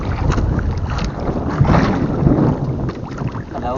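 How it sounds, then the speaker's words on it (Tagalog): Strong wind buffets the microphone on a boat at sea during a jigging fishing trip off the Philippines, a steady loud roar with water and hull noise throughout, no voices. "napakalakas yung hangin dito."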